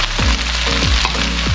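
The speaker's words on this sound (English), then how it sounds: "Make sure you get them seared on all sides." Beef pieces for a beef and broccoli stir fry searing in a hot pan make a loud, steady sizzle with brief crackling bursts, close up and without speech.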